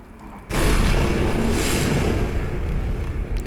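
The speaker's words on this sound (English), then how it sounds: "Nuclear strike." A nuclear bomb strike goes off in the Teardown video game. It starts as a sudden loud boom and then becomes a sustained, roaring rumble that slowly fades, with no talking over it.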